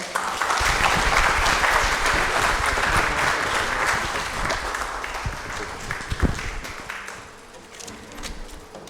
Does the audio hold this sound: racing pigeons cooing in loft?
no